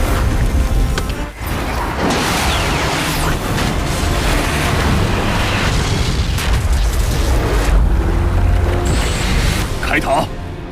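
Laser cannon fire and explosions in an animated sci-fi battle against a giant monster: dense, continuous booming blasts and roaring bursts fill the whole stretch at high loudness with no pause.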